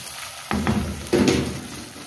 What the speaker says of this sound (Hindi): डाल देंगे इसमें प्याज को भी गोल्डन कर